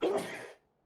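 A single short sneeze from a commentator during a PUBG Console League esports broadcast. It is close and fairly loud, lasts about half a second, then drops to near silence.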